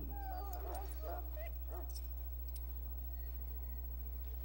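Inside the Dragon Age: Origins video game, a dog whimpers in several short, faint yips and whines over a steady low background hum.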